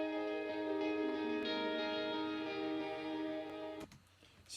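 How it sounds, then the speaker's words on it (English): Electric guitar drenched in reverb and delay rings out in a sustained, shimmering chord that swells and lingers, then fades into echoing decay near the end, alone with no voices. "It's just electric guitar."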